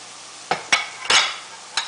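Beef browns with onions and turmeric in a pan for an eggplant stew, heard as four short, loud bursts of scraping and hissing as the meat is stirred, with a faint sizzle underneath between the bursts.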